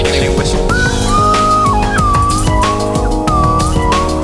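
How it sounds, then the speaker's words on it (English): A slide whistle glides up and down in pitch over a busy, loud background of music and other sounds. "That's what they call a slide whistle."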